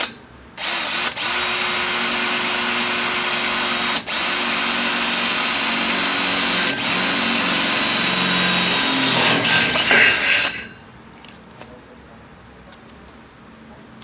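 Stanley 18V cordless hammer drill bores steadily for about ten seconds with a loud, continuous whine and a few brief dips, then stops, leaving quiet room noise.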